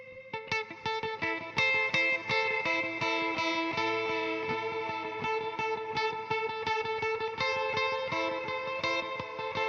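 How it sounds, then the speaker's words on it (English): An electric guitar plays a quick picked riff through a plate reverb, each note washed in bright, dense reverb that leaves a shimmering tail. "Plate reverb."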